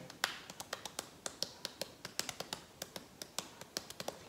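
Knocking on a surface in place of tapping a cup with a spoon, as a simple rhythm accompaniment: crisp, close taps repeating at a steady, brisk pulse, roughly four per second, with no talking.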